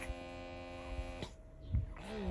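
An air conditioner in a room gives a low, steady electrical hum with tonal overtones, faint but constant, broken only by brief soft thumps.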